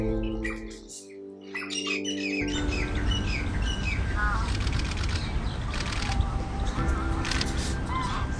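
Birds chirp and call at the Surajpur and Okhla bird sanctuaries in Uttar Pradesh. Sharp tweets and crow-like caws repeat over a steady busy background, following a brief quieter opening.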